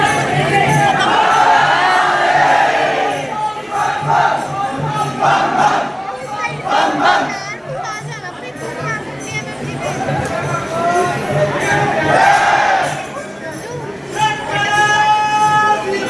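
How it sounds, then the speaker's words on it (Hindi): A dense crowd of devotees at Shri Dudheshwar Nath Mahadev temple in Ghaziabad, loud continuous babble and overlapping voices with occasional louder calls, close and filling the space throughout. "आपको मैं महादेव के दर्शन नहीं करा पाऊंगी क्योंकि भीड़ हो रही है बहुत ज़्यादा"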